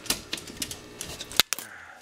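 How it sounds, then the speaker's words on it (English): A metal measuring tape is pulled out beside a BioCube aquarium sump, making a quick series of close ratcheting clicks that ends in a sharp snap. "Take my measuring tape here."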